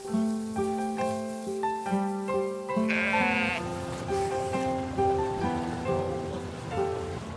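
Sheep bleat repeatedly on an island on Sweden's High Coast, several voices overlapping near and farther off, over a soft patter like light rain.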